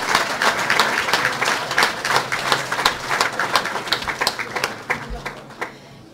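Audience applause at a youth assembly after the election of its president: dense, loud clapping that gradually thins into scattered individual claps and fades out.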